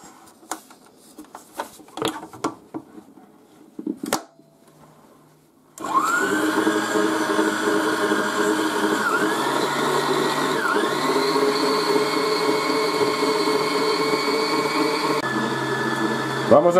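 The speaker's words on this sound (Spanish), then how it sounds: "las yemas, la echamos en la batidora" Kitchen blender beating egg yolks with sugar for crema catalana, starting after a few quiet clattering sounds and then whirring loud and continuous, its motor pitch dipping briefly under load.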